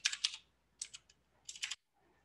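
Fingers type on a computer keyboard in three quick bursts of close, crisp key clicks with short pauses between, with nothing else in the background.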